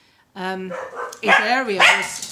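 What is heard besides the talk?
dogs barking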